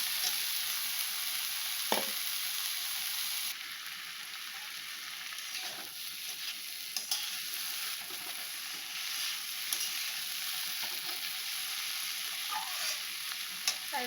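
Banana flower curry with fried potatoes frying steadily in a pan, a continuous soft sizzle with occasional stirring scrapes and clicks, alone without talk.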